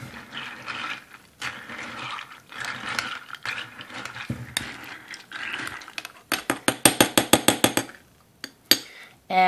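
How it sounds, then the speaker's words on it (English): Stirring a rosehip oil infusion in a jar, first a muffled scraping swirl, then a run of rapid clinking taps of a utensil against glass, close and fairly loud, with no talking. "Now I stir this up."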